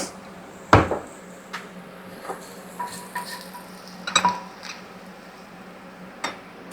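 A small bowl being fetched from a home kitchen cupboard, with a few sharp ceramic clinks and knocks spaced irregularly over quiet room tone, close and isolated, no talking.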